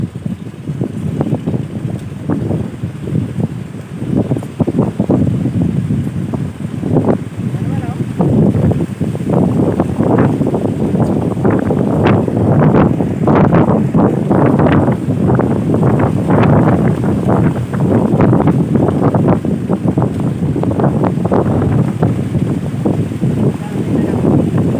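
Strong wind buffets the microphone in a steady, roaring rush across the whole stretch, loud and continuous with gusting surges, and voices talk faintly underneath.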